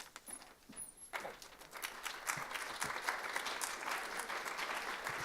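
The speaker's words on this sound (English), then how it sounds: "I don't know if I deserve the clap." Applause from an audience at a corporate speaker event, starting sparse and swelling after the first second into a steady, dense round of clapping that carries on to the end.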